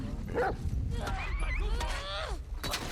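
Dog barking and yelping in The Last of Us Part 2, a few sharp yips and a whine standing out over game noise and a faint voice.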